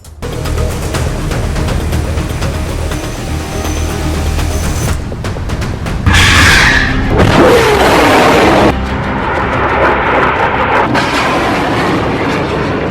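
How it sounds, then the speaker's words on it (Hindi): Hamas rockets launching one after another: heavy roaring blasts with a sustained rushing whoosh, loud and close, several launches spread over the span with no speech. "पहला रॉकेट, फिर फायर हुआ दूसरा रॉकेट, इसके बाद लॉन्च हुआ तीसरा रॉकेट।"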